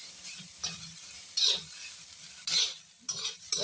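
Sliced onions frying and browning in a pan, a quiet steady sizzle broken by a few short scraping stirs at irregular intervals, with no voices.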